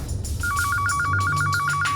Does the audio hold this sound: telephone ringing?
yes